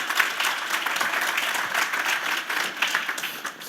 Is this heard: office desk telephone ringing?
no